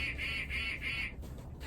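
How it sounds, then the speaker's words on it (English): A house finch sings at noon: three even, whistled tones repeat in quick succession, then break off into softer chatter over a steady background hum. "That's the house Finch you're hearing, because it's 12 o'clock."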